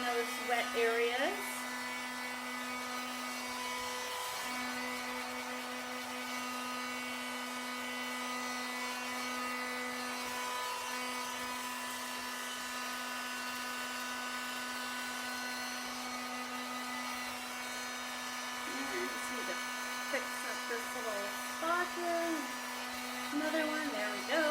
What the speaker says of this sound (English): Sometimes if you get the heat gun too close, it does bubble the paint up